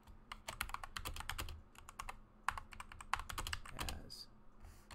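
Rapid, uneven clatter of a computer keyboard being typed on, close and continuous for several seconds with short pauses, over a faint low background hum.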